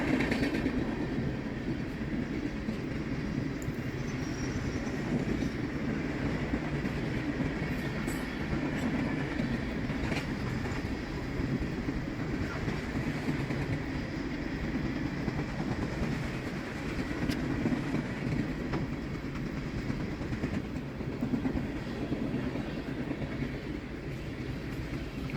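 A long CSX freight train rolls past steadily at close range, wheels clacking over rail joints in a continuous loud rumble with occasional squeals, no voices.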